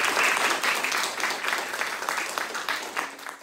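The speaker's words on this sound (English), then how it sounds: "So can we give him a round of applause," Sustained audience applause fills a room after a talk on environmental community organizing, a dense, even wash of many hands clapping that stays loud and steady and tapers slightly toward the end.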